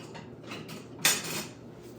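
A spoon is fetched from a kitchen drawer: faint rummaging taps, then one bright metallic clink and a short jangle of cutlery, quiet overall.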